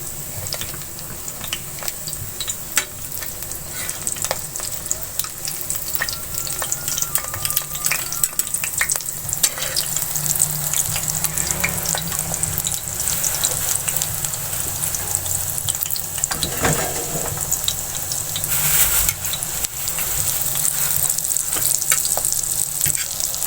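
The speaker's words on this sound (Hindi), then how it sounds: "अब मैंने कबाब की एक साइड फ्राई कर ली है, अब दूसरी कर लेंगे।" Shami kebabs, made from dal and minced meat, frying in a pan with a steady, close hiss and crackle that runs unbroken for over twenty seconds, broken by occasional scrapes and stirring noises.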